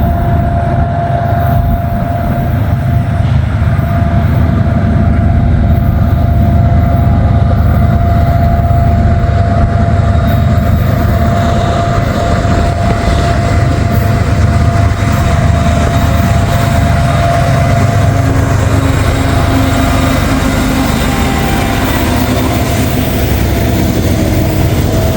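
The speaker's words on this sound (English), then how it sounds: "This maintenance away equipment is something else." A maintenance-of-way equipment train rolls past on an Amtrak-run line, a loud, steady rumble of engine and wheels with a sustained tonal whine, close by and unbroken for the whole stretch, with no voices.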